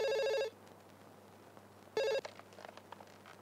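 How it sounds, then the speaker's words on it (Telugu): A telephone rings in two loud electronic bursts, a long ring at the start and a shorter one near two seconds, with quiet room noise and faint clicks between. "ముందు నువ్వు ఫోన్ తీ, మధుకు ఫోన్ చేయి."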